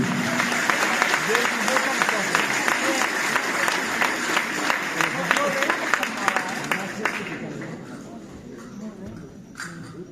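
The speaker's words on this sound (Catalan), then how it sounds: "Un fort aplaudiment." Outdoor crowd applause at a Ballada de Gitanes folk dance event in Parets del Vallès, loud and sustained clapping from many people that slowly fades toward the end.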